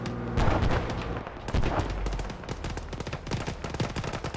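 Loud, dense gunfire from ARMA 3 mechanized combat: rapid automatic bursts and heavy booming shots roll continuously and close.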